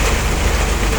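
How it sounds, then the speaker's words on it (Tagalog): Dense, steady roar of heavy rain pounding down, loud and unbroken, with no voices. "lakas ng ulan."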